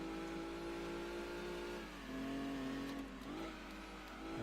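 Dodge Copperhead engine in the racing game Gran Turismo 2, a steady mid-pitched drone that drops in pitch, then revs back up at a shift, heard alone at low level with no talk.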